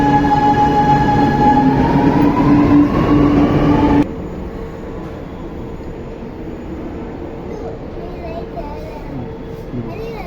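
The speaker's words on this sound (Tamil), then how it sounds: "ட்ரெயின் போயிடுச்சு பாரு" A train rumbles past nearby with a rolling metallic drone and a sustained whine, then fades to a lower, duller rumble partway through.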